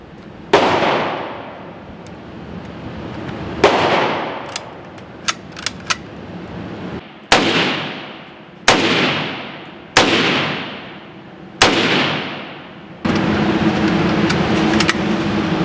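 An M1 Carbine rifle fires about seven loud, sharp single shots outdoors, each cracking and decaying before the next, with irregular pauses between them and faint metallic clinks in one gap.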